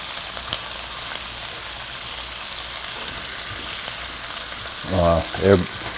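Cabbage sizzles and crackles steadily in a hot sauté pan, followed near the end by two short bursts of voice.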